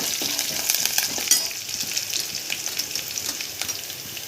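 Five or six curry leaves hit hot oil with coarsely crushed garlic, ginger and cumin for dal palak, giving a steady, close, bright sizzle and crackle throughout, with a brief sharper pop early on.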